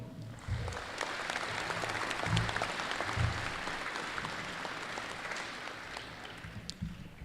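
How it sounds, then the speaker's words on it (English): Audience applause at a sports hall of fame induction ceremony, a steady wash of many hands clapping throughout, moderately distant and even, with a few low thumps underneath. "let's give a round of applause for all the previous members"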